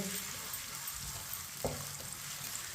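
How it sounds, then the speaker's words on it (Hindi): Finely chopped onion fries in oil over medium heat, a steady close sizzle with a single scrape or knock of the spoon as it is stirred midway. "मीडियम आंच पर इसी तरह चम्मच चलाते हुए हल्का सा ब्राउन कर लेंगे"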